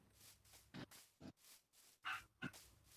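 A few short dog barks from a Minecraft game, spaced irregularly over a quiet background, each bark brief and fairly clear against a low ambient hum.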